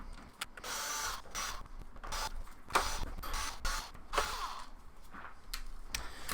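Screws are being removed from a PS5 console with a magnetized driver, giving close, faint mechanical clicks, scrapes and ratcheting noises at irregular intervals, with no voice heard.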